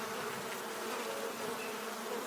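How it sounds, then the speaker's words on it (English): A dense, steady buzzing of many bees, continuous and fairly close, with no talking. "Some or all of the bees are likely to follow her and swarm."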